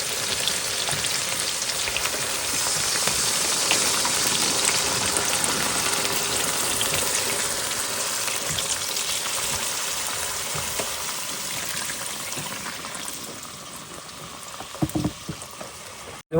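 Mustard, green chili and salt spice paste cooks in a pan as water is poured in, giving a steady loud bubbling sizzle that fades slightly toward the end, with no talking.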